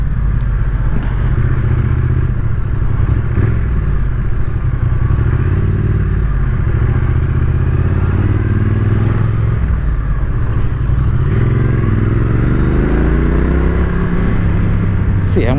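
A Triumph Street Twin motorcycle engine, close and loud, rumbling and revving with rising and falling pitch as it accelerates, with a rider's voice talking over it at times.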